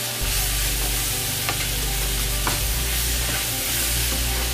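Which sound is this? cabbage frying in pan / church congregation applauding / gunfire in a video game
cabbage frying in pan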